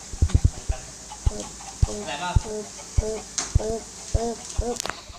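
Chickens on an automatic Minecraft chicken farm give short repeated clucks in an uneven rhythm, close and clear against a soft background, while someone speaks briefly.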